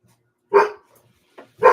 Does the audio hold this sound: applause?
no